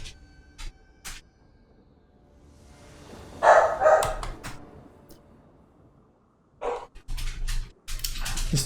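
Dog barking indoors, a few short separate barks in the middle and a louder cluster of barks near the end, with quiet gaps between and no talk.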